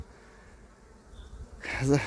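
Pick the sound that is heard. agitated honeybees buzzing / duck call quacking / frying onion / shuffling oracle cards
agitated honeybees buzzing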